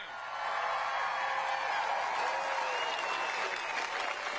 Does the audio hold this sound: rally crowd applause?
yes